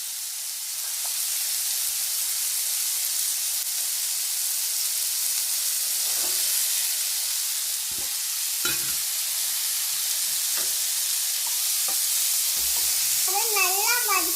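Carrot, onion and tomato sauté in a pan with a steady, even sizzle, punctuated by a few soft stirring scrapes and clicks, close and alone with no talk.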